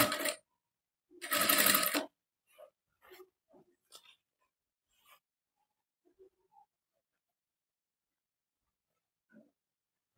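A sewing machine stitches sleeves onto a garment in two loud bursts of rapid whirring near the start, followed by quiet, sparse clicks and small handling sounds.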